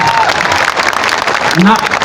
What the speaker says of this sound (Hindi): बजाइए जोर से ताली